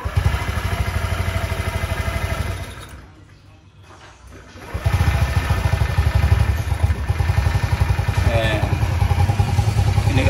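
A cold motorcycle engine that has sat unused for nearly a month, among bikes like a CBR600RR, Z800, Primavera, GTS300, Ruckus and Scoopy, sputters and dies briefly, then restarts into a loud, steady idle close by.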